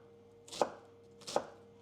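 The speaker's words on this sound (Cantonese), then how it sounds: "咁我就會切佢一粒粒" A knife chopping red shallots into small pieces, two crisp, separate cuts on a board about a second apart, close and fairly quiet.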